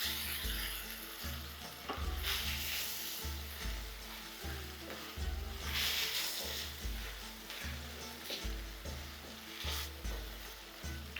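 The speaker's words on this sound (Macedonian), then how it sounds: "Ова мора убаво да биде испржен кромидот, така да добие стаклест изглед." Chopped onions frying on low heat in a pan until glassy, a steady loud sizzle with rhythmic stirring scrapes repeating every second or so, no talking.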